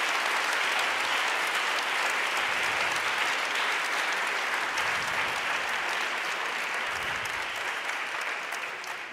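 Dense applause from a large audience at an academic conference in Padua, filling the room steadily before slowly thinning toward the end, with no talking over it.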